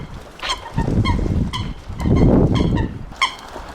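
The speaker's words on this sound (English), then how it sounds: "I think that's a meerkoet." Coots call outdoors on a cold day, giving several short, sharp honking notes at uneven intervals over a steady rumble of wind or background noise, fairly close, with no talking.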